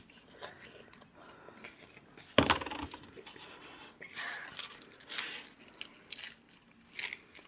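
Someone crunches into something at close range, giving a sharp bite followed by a string of brittle crunches and chewing noises in a quiet room with faint background hiss.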